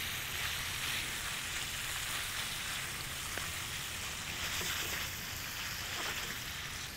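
Shrimp fry in a hot pan after being flipped, giving a steady hissing sizzle with faint scattered pops, close and unbroken throughout.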